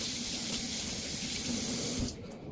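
A kitchen faucet running steadily as seasoning is rinsed off a hand, a close, even rush of water that cuts off abruptly near the end.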